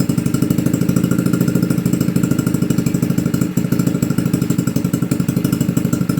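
A Motoped Survival engine runs steadily at close range, a loud, fast, even chugging with a constant throttle and no voices over it.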